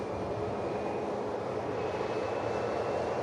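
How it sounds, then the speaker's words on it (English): A steady, broad roar from a seven-year-old UK government Airbus A321neo long range operated by Titan Airways on the runway at Manchester Airport, a continuous jet engine rumble with a faint high whine, no pauses. "UK government A321neo long range."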